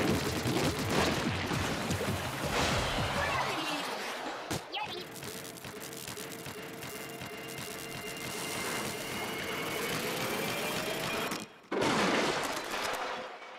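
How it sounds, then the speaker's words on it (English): A boss-arena explosion in the Splatoon video game sends ink across the surroundings, a loud, dense burst of crackling and rattling blasts followed by sustained rumbling game sound, with a sharp cut near the end. "It's a very satisfying explosion, which paints everything around us."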